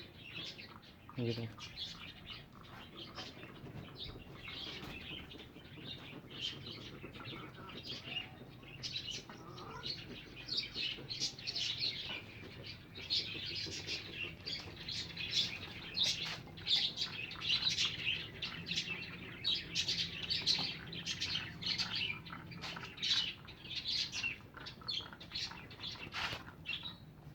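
Parrots chirp and tweet continuously, a busy chorus of sharp calls that is close and steady throughout, with a brief spoken remark near the start.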